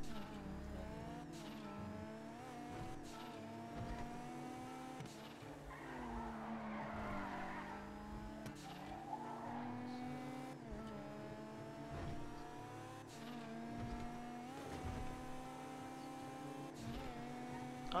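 A Kuruma car skidding and driving in the video game GTA Online, with a steady engine drone, repeated tire squeals and skids, and a gritty scraping patch in the middle, fairly faint overall.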